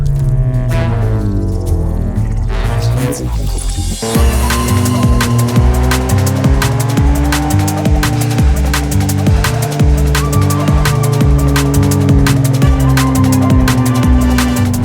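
A race car in a sim racing game, driven with a Logitech G Pro wheel, roars loudly and continuously. Its engine note climbs and shifts through gears, with occasional tire squeal.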